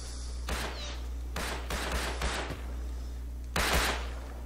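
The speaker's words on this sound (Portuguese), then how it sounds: "Começaram a atirar já." Gunfire in the survival game Rust: several distinct loud shots and short bursts spaced irregularly over a constant low hum, the last burst slightly louder, with no talking.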